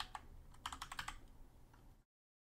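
Quick bursts of keys tapped on a Mac computer keyboard, a close run of light clicks at an uneven rhythm lasting about two seconds before cutting to silence.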